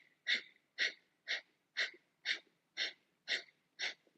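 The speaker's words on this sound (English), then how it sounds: "but with long, slow, deep breath" Eight evenly spaced, long, slow breaths pass through the nose or throat with a soft, airy rasp during yoga sadhana practice, each a close, quiet whoosh separated by brief silence.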